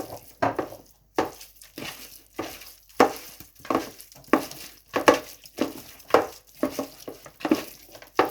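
Chicken wings coated with masala and ginger-garlic paste are stirred in a bowl or pan, giving soft repeated wet scraping and clinking strokes in a steady rhythm, fairly quiet and close.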